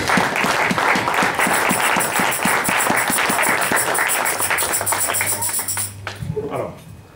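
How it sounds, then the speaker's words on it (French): A church congregation at a Sunday youth seminar sermon applauds, a loud, dense burst of clapping that carries on steadily for several seconds. Voices call out through it, and it then tapers off abruptly near the end. "Acclamons pour la gloire de Dieu."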